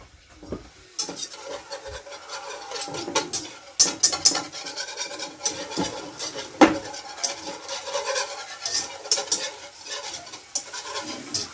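Bouillon being stirred in a pot, a run of close, irregular scraping and rubbing strokes that grows busier after a quiet start, with no voices.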